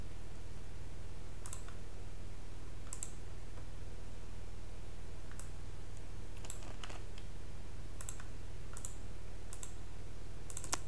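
Sparse computer keyboard clicks are typed to enter a yarn add command, isolated taps and short clusters spread over a steady low hum, close and fairly quiet.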